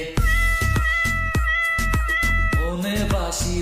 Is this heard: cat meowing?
yes